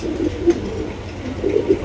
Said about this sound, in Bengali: দেখেন কোয়ালিটি ফুল কবুতর